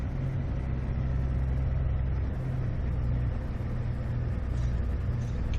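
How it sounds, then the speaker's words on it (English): A Cessna 337 touching down and braking in Microsoft Flight Simulator, heard as a steady low engine rumble and drone that stays loud and continuous throughout. "Let's go ahead and get this on the ground and then slam on the brakes."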